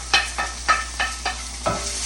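Onion sizzling in a hot pan for corned beef gyudon, soft steady frying hiss with about six regular scraping stirs, close and alone.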